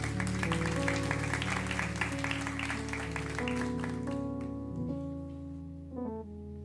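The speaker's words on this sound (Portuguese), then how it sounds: "Aplauda ao Senhor Jesus." A church congregation applauds to organ or keyboard music, with sustained chords running under a broad wash of clapping that gradually thins out toward the end.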